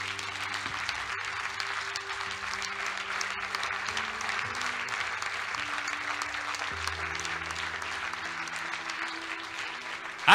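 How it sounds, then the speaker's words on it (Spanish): A church congregation applauds steadily and loudly in worship, a dense even wash of clapping with sustained music tones underneath, ending in a sudden louder burst. "dale fuerte ese aplauso a Él"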